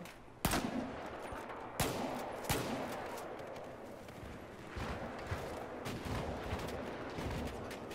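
Gunfire in the video game Battlefield 4, sharp shots ringing out at irregular intervals, several loud isolated cracks followed by scattered quieter bursts under a dense game background.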